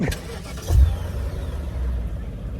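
A car engine cranks and catches with a brief loud burst, then settles into a low, steady idle rumble; a black car.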